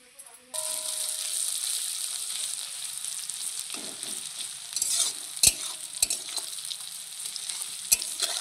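Onions fry in a pan of oil with a steady, close sizzle, broken by occasional sharp clinks and scrapes of a utensil against the pan.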